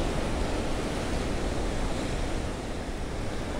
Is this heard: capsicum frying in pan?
no